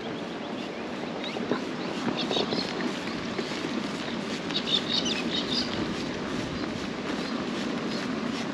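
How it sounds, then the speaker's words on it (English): Galahs screech in scattered, faint, distant bursts across open rural country near wheat silos. The calls are partly buried under steady wind and ambient rumble. "Sound of galahs."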